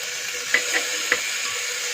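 Boiled chicken gets stirred in a pot over a flame, with a few soft scraping clinks of the spoon over a constant gentle sizzle and hiss, close by and without talk.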